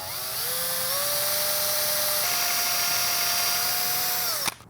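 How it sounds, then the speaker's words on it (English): A power drill boring a hole into a particle board base runs in one continuous high whine for about four seconds, its pitch rising slightly as it bites, then cutting off sharply, close and alone. "Now I just have to carefully drill a hole down there."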